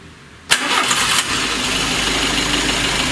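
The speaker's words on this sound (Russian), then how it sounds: "Ну, заведи машину." Car engine with 185,000 km on it, misfiring, knocking and burning oil, cranks and catches at about half a second, then settles into a loud, steady idle with no voices.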